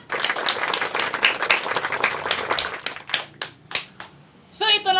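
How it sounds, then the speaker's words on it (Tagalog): A small group applauds during a Filipino food-challenge gathering, brisk, close clapping for a few seconds that breaks into a handful of separate claps, followed by a voice at the end. "Kaya bigyan natin ng palakpak!"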